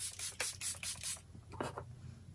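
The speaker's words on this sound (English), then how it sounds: "this is such a great setting spray" Charlotte Tilbury Airbrush Flawless Finish setting spray, a makeup product, is spritzed in several quick hissing bursts, close and soft, with a couple of fainter puffs after.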